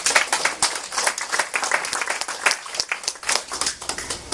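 An audience applauding at a motivational presentation, dense steady clapping from a crowd lasting several seconds with no talking over it.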